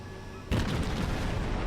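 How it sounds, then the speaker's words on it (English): Naval guns fire from a cruiser toward a battleship in the World of Warships Tenryu light cruiser gameplay, starting as a sudden loud blast that rolls into a sustained booming rumble. "I'm using my guns to try and do a bit more damage to Wyoming"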